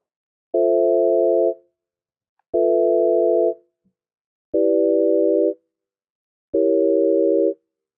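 A plain synthesized sine-wave tone with no effects sounds four times at a steady rhythm. Each clean, sustained note lasts about a second and stops sharply, with silence between notes and no talking.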